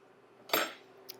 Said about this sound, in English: I'm going to take the back edge of my spoon here.